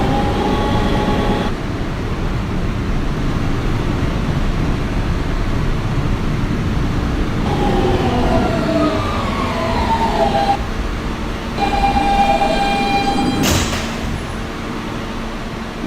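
A Kawasaki R160B Siemens R local subway train rumbles steadily along the track, loud and close, with rising and falling whines from its motors and a sharp high squeal near the end.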